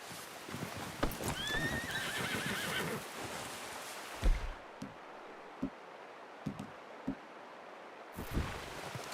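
A horse in the Red Dead Redemption 2 game gives a clear rising whinny early on amid rustling and clip-clop hoof steps, followed by scattered close thumps and hoof sounds in a quieter outdoor scene.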